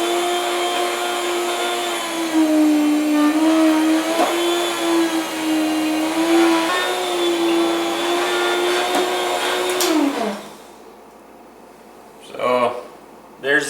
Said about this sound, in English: I usually put my slicer about 1/4 inch.